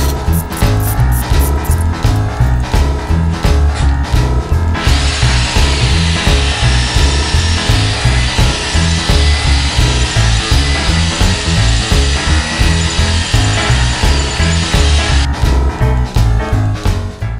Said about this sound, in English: what you saw me do is drilling out those bolts here